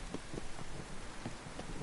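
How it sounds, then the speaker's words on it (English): Rain during a storm in The Witcher 3: Wild Hunt, a steady hiss of falling rain with low rumbling underneath, continuous and fairly soft throughout. "Rain was coming."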